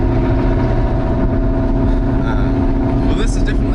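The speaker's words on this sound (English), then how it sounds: "The downside of this car is that it's so loud" A loud Shelby GT500 engine rumbles steadily up close, a thick continuous drone that fills the whole stretch while a person talks over it.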